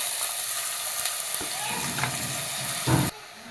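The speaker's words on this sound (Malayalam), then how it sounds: "ഈ എണ്ണയിൽ കിടന്നിട്ട് തന്നെ നന്നായിട്ടൊന്ന് വഴറ്റിയെടുക്കാം." Chayote pieces sizzle steadily in hot oil with turmeric, with soft stirring scrapes and a louder clatter of the spoon near the end before the sizzle settles again.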